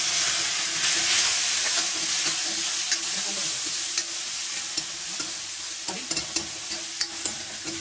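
Tomatoes added to a hot pan of softened ingredients sizzle and fry loudly and steadily while being stirred, with scraping stir strokes breaking through near the end, close and continuous.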